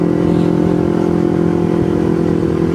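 Carbureted Kawasaki Ninja 250 motorcycle on a morning commute ride, its engine giving a loud, constant buzzing drone close by, without speech.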